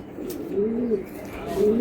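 A Netherlands racing pigeon coos close by in a series of low rolling, wavering calls, repeated several times.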